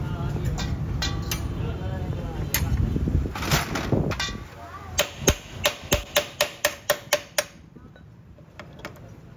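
Hammer blows knocking a tight, previously welded part out of a Honda CD70 engine, heard as a fast series of about ten sharp metallic strikes, close and loud, after a stretch of talking and clatter.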